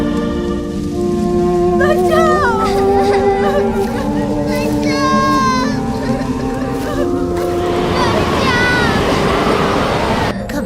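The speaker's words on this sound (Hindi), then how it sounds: "ये तूफान शांत हो जाएगा।" Heavy rain pounds down in a storm across the whole stretch, a dense steady wash with tonal music-like lines running through it and voices woven in.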